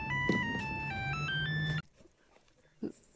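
A Meshtastic radio device plays its message alert as a bright electronic Mario Brothers jingle, a quick run of stepped beeping notes that stops abruptly, leaving a quiet room with a faint bump afterward.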